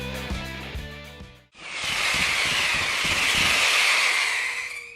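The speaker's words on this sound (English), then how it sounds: "A perfect demolition, don't you think?" Silo demolition explosion: after a short burst of sharp cracks, a sudden loud blast swells into a long, broad roaring rush that keeps up to the end.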